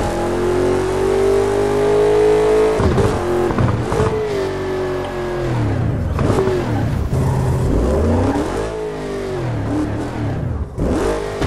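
A car engine races loudly and continuously in the Burnout Paradise video game, revving up and down with gear shifts and whining acceleration throughout.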